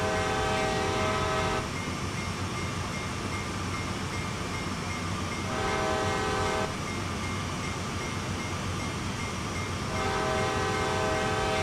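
A heavy CSX diesel freight train in Train Sim World, AC4400CW locomotive hauling autoracks, rumbles steadily and loudly at notch 8, its engine drone constant, with a long horn blast sounding twice and again near the end.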